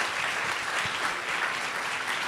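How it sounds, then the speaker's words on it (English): An audience at an education conference event applauds, dense steady clapping that holds at even loudness throughout with no voices over it. "Let's give them another big round of applause"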